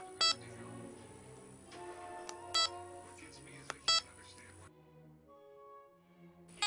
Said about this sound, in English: hearing the meter beep every time you press a key